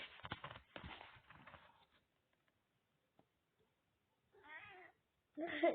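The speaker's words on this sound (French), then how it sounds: "Continue bien à miauler" A cat meows twice, close by, after a burst of faint rustling and a few small ticks in an otherwise quiet room.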